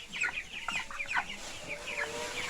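Chickens on a hillside farm in St. Ann, Jamaica, clucking and chirping in overlapping bursts, a mix of fowl calls close by under a faint background hiss.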